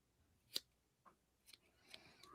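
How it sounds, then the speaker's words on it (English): Long, sharp scissors trim hair while tying an Andino Deceiver fly, giving about four quiet, close snips spaced irregularly with near-silence between them. "I'm going to pre-trim that with some long, sharp scissors"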